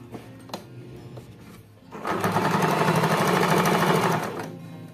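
An electric sewing machine runs a steady, loud stitching burst through strips of trouser fabric, starting after some quieter handling noises and running for about two seconds before easing off.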